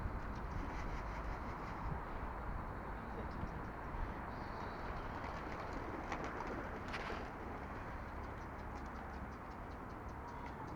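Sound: pigeon cooing

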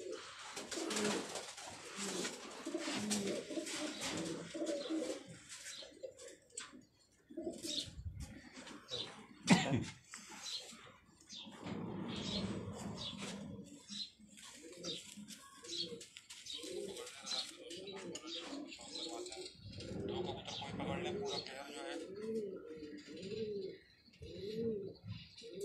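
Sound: pigeons cooing

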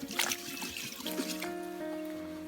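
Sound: water bucket being washed

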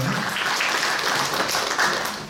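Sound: audience applause welcoming a speaker

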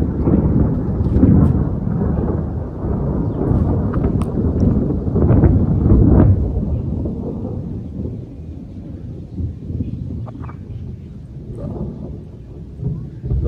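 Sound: rain

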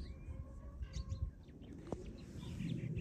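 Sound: birds around a farm eating duck food

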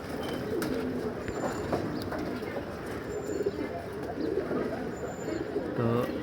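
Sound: pigeons cooing

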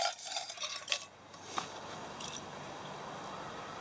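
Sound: titanium folding knife, fork and spoon being handled

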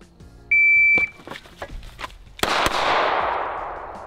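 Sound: shot timer beep and two pistol shots

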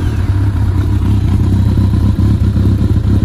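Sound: Kawasaki ZRX 1200 S motorcycle engine idling

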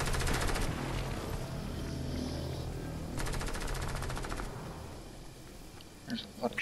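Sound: gunfire in a video game

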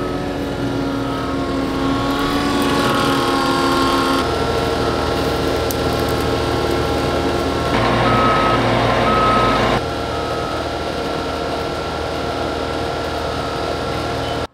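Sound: Nexat system tractor driving under Vaderstad seed tanks

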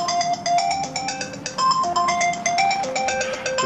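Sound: phone ringing on an outgoing call

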